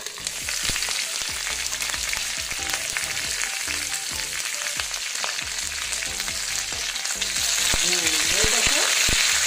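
Boal fish paturi steaming in banana leaf on low heat, giving a steady, dense sizzle that runs throughout and grows slightly louder toward the end.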